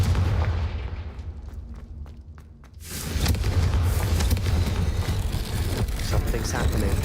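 A Confringo fire spell from Hogwarts Legacy bursts loudly at about three seconds. A broad, sustained blast follows, with crackling, gunfire-like impacts rolling under game noise.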